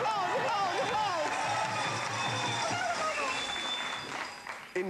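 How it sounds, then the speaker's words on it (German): Studio audience applause on a sports quiz show, a dense sustained clapping wash heard under a voice speaking over it throughout. "Applaus, Applaus, Applaus, Applaus, Applaus."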